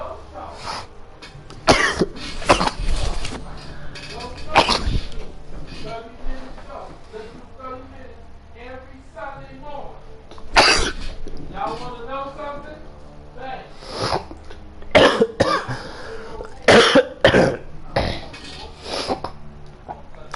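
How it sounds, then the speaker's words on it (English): A man coughs several times in sharp, loud bursts spread across a stretch of his continuous talking, with some throat clearing between the coughs. "Been coughing all day, man."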